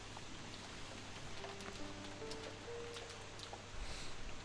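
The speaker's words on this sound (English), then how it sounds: "simply listening to the sound of the rain" Rain sound effect from the visual novel Umineko, a faint, steady hiss of falling rain with soft scattered droplet ticks, running quietly under a thin musical tone.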